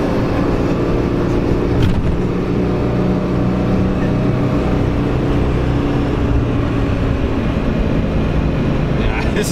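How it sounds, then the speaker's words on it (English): A 1961 Rolls Royce Silver Cloud engine pulls steadily under acceleration, a loud continuous drone heard from inside the car with road noise and a voice talking over it. "The only power is in the motor when you accelerate, which I'll show you guys very shortly"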